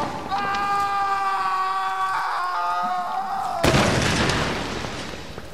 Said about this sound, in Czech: Double výbuch, jo?